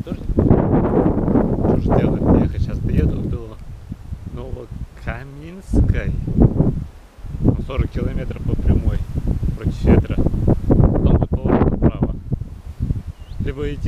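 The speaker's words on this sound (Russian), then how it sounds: "То есть постоянно такой ветер будет" Strong wind buffets the microphone during a rainy, headwind bicycle trip through southern Russia: a loud, continuous rough roar that runs almost nonstop under someone talking throughout.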